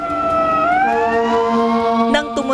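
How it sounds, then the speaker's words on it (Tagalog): A wailing emergency siren sounds during an earthquake drill at a City Hall, loud and steady, its tone rising in pitch partway through and broken by short bursts near the end. "Nang tumunog ang sirena"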